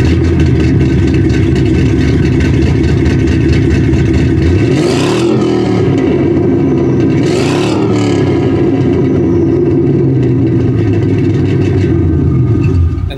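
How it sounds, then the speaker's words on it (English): Supercharged 4.6 litre V8 in a 2009 Ford Mustang Black Widow, idling loud and close with two sharp throttle blips that rise and fall, a steady rumble continuing throughout. "that's that beautiful V8 sound"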